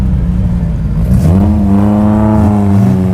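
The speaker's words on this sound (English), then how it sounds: "Now this should be Dean McNulty at the wheel in his Toyota MR2" A Toyota MR2 race car engine revs up nearby, its pitch climbing and then holding at a loud, steady drone.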